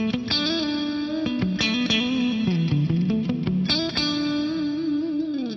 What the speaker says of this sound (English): we've got the concert hall reverb set up for 4 seconds of reverb